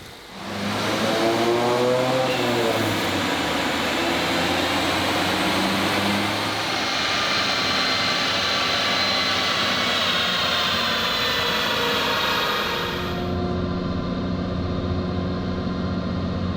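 A 2022 Honda Civic Si with a new high-volume intake and charge pipes running on a dyno, the engine climbing in a loud sustained rev that drones steadily before dropping off near the end, with no talking.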